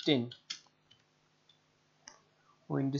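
Keys clatter on a computer keyboard as a Google search for a Windows 10 download is typed: a few sparse, soft clicks in a quiet gap between stretches of talk.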